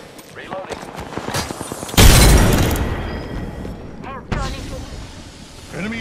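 A frag grenade goes off in Apex Legends with a sharp, loud boom that decays over a couple of seconds, set among rapid game gunfire and a second burst, with voice callouts around it.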